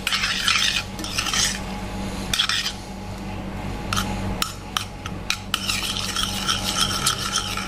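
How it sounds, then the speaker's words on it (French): A big spoonful of cherry jam is scraped in and stirred through a hot mixture in a pot, with repeated metal-on-pan scraping and clinking strokes in an uneven rhythm, close and clear with no talk. "on va ajouter une grosse cuillère de confiture de cerise"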